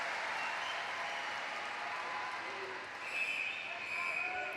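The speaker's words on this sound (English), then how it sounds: "Applause around the pool for James Crisp in lane 5." Crowd around the swimming pool at the London 2012 Paralympic Games applauds as a swimmer is introduced before a men's 200 m individual medley SM9 heat; broad, distant clapping fills the indoor arena, with a commentator's voice talking over it.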